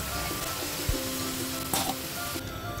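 Cubes of elephant foot yam (suran) fry in hot oil for undhiyu, giving a brief, steady sizzle with a faint clink partway through.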